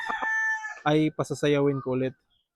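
A breeding rooster crows close by, giving a harsh broken call followed by a trailing clucking note, then falls silent.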